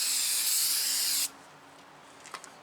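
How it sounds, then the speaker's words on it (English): Brake cleaner sprayed from an aerosol can onto the front brake rotors of a 2014 Ford F-150, a loud, close, steady hiss for just over a second that cuts off abruptly, then faint clicks. "Spray it down really good with brake cleaner"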